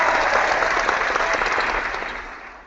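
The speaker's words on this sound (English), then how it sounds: "Here's a big applause for Carnucci." A crowd bursts into dense, loud applause with steady clapping that gradually fades toward the end of the short burst, with no talking.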